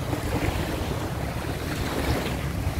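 Ocean surf washes steadily onto a beach in Saipan, a loud, continuous roar of breaking waves mixed with heavy wind buffeting the microphone, with no voices.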